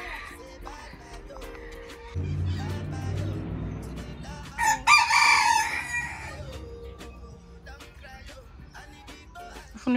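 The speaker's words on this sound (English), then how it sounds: "He's chasing after the chicken." Backyard chickens cluck in short bursts while a rooster crows loudly and nearby midway through, with more scattered clucks and faint background sounds around it.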